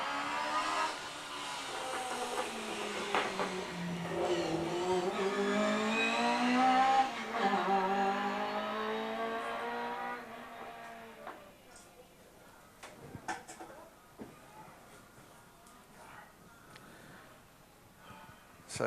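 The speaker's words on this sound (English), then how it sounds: "This is where the noise of a highly developed Group N race car comes from." A Group N race car with straight-cut gears, a Mark 1 Cortina at a historic sprint at Leyburn, passes loudly with a rising, whining engine note, then fades into the distance, followed by faint clicks and background noise.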